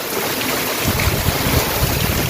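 Strong wind roars steadily at a window during rain, a broad gusting rush with low buffeting rumbles, no voices present.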